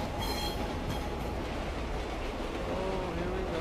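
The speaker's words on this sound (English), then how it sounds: "See, the subway... The trains are going." A subway train in the video game Condemned rumbles and rattles continuously at close range, with wheel squeals and clattering running through a steady, loud roar.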